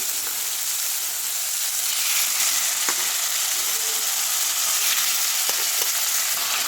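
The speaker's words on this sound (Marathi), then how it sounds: "याला आपण आता मस्त फ्राय करून घेऊ भाजून घेऊ या तुपामध्ये" Marinated mutton keema frying in ghee with whole cloves and black cardamom, a loud, close, steady sizzle with occasional scraping stirs.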